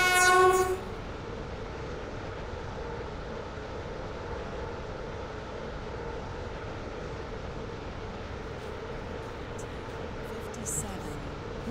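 A Roblox SCR game train sounds its horn at a whistle board, one loud close blast at the start, then a steady rumble of the moving train with a few faint clicks near the end.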